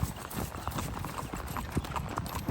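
Steady clip-clop of two horses' hooves being ridden together, an even, continuous cadence of hoofbeats close by, with a faint voice in the background.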